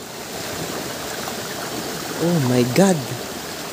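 Water gushes strongly from a spring, a steady close rushing wash that continues throughout, with a person speaking over it near the end.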